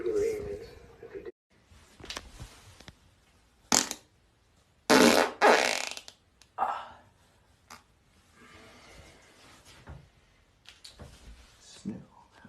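Several loud farts come from a young man, close up and in bursts with gaps between them, mixed with people talking and laughing.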